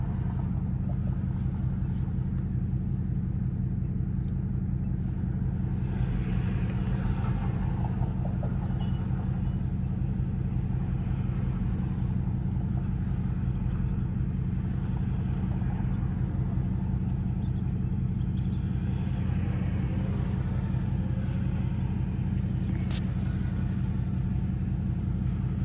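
A Dodge Charger R/T driving in track mode gives a steady, low engine rumble from inside the cabin, droning evenly throughout with no sharp revs.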